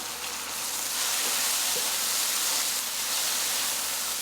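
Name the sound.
bacon frying and sizzling in pan for potato soup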